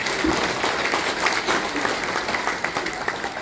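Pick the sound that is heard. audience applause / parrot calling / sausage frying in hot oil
audience applause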